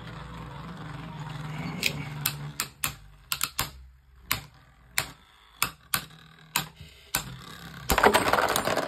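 Beyblade Burst tops, including Rocktavor and a prototype Kerbeus, clashing in a plastic stadium: a series of sharp, close clacks at irregular intervals over a faint whirring hum, ending in a denser rattle.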